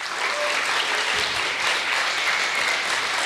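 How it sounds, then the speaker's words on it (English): An audience at a startup pitch competition gives sustained applause, a dense, even roar of many hands clapping with no voices above it. "Big applause for him."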